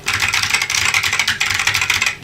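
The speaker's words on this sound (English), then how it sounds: "It sounds like an old keyboard" Typing on a Matias Tactile Pro keyboard with Alps SKBM Gray switches, rapid close clacking keystrokes in an uneven stream, loud and alone.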